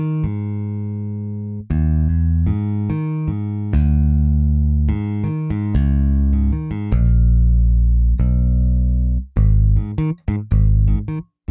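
A sampled bass guitar from the Toontrack EZbass plugin with a warm pick tone plays a loud, close line of sustained picked notes with short gaps and a few quicker notes near the end, no talking.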